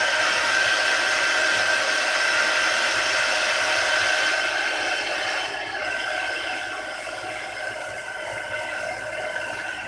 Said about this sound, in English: Let me hit it with the heat tool just a couple more seconds.